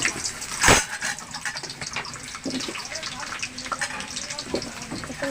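Potatoes go into hot mustard oil and fry with a loud sizzle, led by a sharp burst as they hit the pan. A steady crackling hiss follows, close by.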